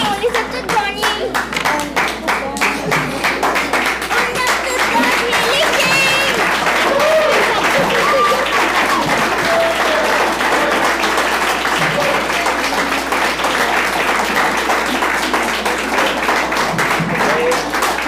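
Audience applauding players at an event, sustained steady clapping from a crowd with a voice speaking over it.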